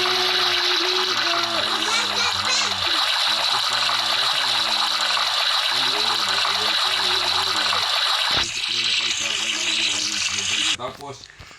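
Water splashing and running while bathing in the Roblox Brookhaven game, a continuous gushing stream under upbeat game music, with a brief cut near the end.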